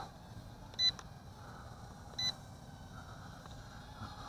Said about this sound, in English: It does have the annoying beep.